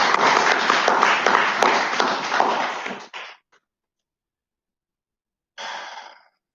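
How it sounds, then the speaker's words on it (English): An audience at a spiritual community gathering applauds in a dense burst of clapping for about three seconds, stops into silence, then breaks into a second short round. "Let's give Virginia another round of applause."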